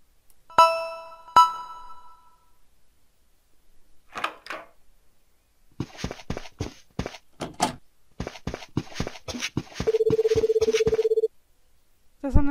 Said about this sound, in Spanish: ¿Está sonando el teléfono otra vez?